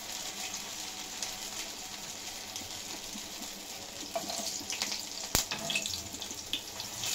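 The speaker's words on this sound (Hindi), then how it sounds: "जब तक तेल हमारा गर्म हो गया है हमने इसको शैलो फ्राई कर लेते हैं।" Sabudana vada cutlets shallow fry in a little hot oil over a medium-low gas flame. A faint, steady sizzling hiss carries scattered soft pops and one sharp crackle near the end, with no voices.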